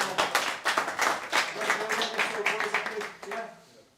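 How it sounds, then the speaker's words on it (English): Audience applause for a football team at a season presentation evening: a burst of many hands clapping, loud and fairly steady, then thinning and fading toward the end, with voices mixed in. "Give yourselves a big clap, yeah?"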